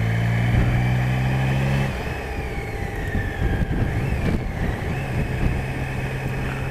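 BMW K75 motorcycle engine accelerating in fifth gear on the road, a loud steady drone with rising and shifting tones amid wind rush, continuous and close.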